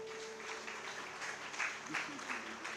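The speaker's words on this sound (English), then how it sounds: "Let us have a round of applause, please." Audience at a book launch clapping, a faint, scattered patter of applause in a large room, with voices murmuring underneath.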